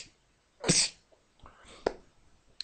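A single sharp, close sneeze, followed by a few quieter breaths and small mouth sounds.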